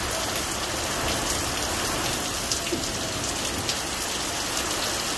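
Heavy rain pours steadily onto a surface as a thunderstorm rolls through, a dense, unbroken hiss that stays loud and close from start to finish, with no voices.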